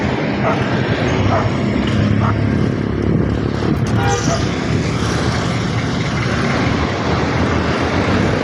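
Several dogs bark and yip beside a busy highway, with short barks scattered over a constant loud roar of passing vehicles and wind.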